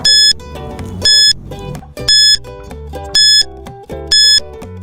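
A quiz timer alarm for a children's English lesson rings in five loud, evenly spaced electronic beep bursts over a steady backing music track, with no talking.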